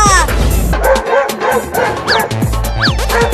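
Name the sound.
dog barking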